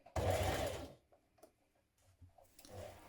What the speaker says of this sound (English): Now we're going to stitch round that pocket curve there with a 1 centimetre seam.